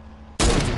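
A sudden loud burst of video-game gunfire erupts after a brief low hum, filling the rest of the moment with dense, sustained noise.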